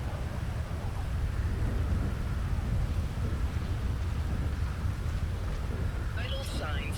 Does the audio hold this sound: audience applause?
no